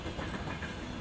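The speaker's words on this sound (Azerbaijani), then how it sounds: "100 ildən çoxdur ki, bu torpaqda qatar səsi eşidilir." A train rolling along the railway through the town of Yevlakh, Azerbaijan, with a steady rumble and clickety-clack of wagons over the rails, continuous and fairly close.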